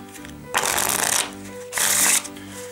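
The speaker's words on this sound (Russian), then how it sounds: "Вот так вот можно поработать с этими картами." A deck of Blades Gold Edition playing cards printed on premium paper is riffle-shuffled up close in two crisp, loud bursts, each a rapid fluttering rattle followed by a short quiet pause.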